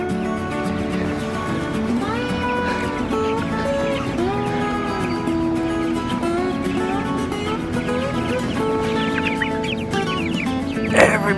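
Chickens cluck steadily in a coop after heavy rain on a farm, a dense close chorus of overlapping calls and squawks running throughout, with a louder burst near the end.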